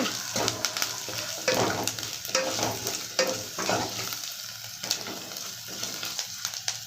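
Ground spices fry and sizzle in a pan for pappu charu, a Rayalaseema lentil rasam, with steady crackling and intermittent stirring scrapes, close and continuous without speech.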